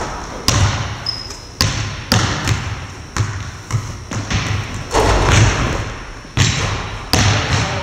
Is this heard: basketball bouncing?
yes